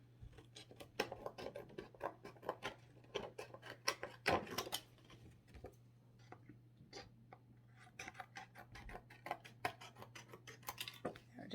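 Scissors trimming paper for a junk journal cover, giving a run of short, close snips and paper rustles at an uneven pace, with brief pauses between cuts and no talking.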